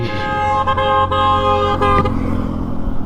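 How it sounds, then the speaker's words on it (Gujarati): A vehicle passes close on a road and sounds its horn in a steady, tonal honk lasting a couple of seconds, with road noise throughout. "ઓકે ગાડી આવે છે નીકળી જશે"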